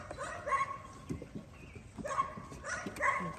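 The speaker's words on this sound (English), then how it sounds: "Faith and Buddy's puppies" Young puppies whimpering and yipping in a kennel, thin high cries arriving in short repeated bursts over a low rustling background, fairly close.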